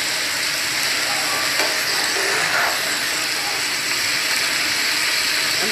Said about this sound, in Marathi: तर हे पण व्यवस्थित मिक्स करून घेऊया